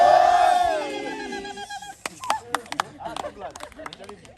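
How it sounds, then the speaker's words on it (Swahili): Crowd at an estate groundbreaking ceremony erupting in high, wavering ululation for about two seconds, loud and close, then fading into scattered shouts and mixed crowd voices. "wapi vigelegele?"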